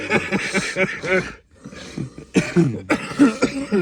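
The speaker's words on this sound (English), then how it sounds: "I'm fucking coughing up a lung over here." Harsh, repeated coughing up close, loud bursts running together with a brief pause midway.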